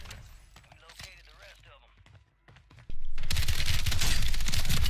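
Gunfire in the Modern Warfare III video game, a Resurgence match: dense loud bursts of shots fill the second half, after quieter stretches with someone talking over scattered game noise.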